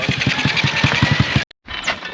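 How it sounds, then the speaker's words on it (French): A small motorcycle belonging to a roadside mechanic in southern Morocco putters close by with a fast, even pulsing beat, then cuts out briefly before a thinner noise returns. "Et là, ça c'est la moto du dépanneur."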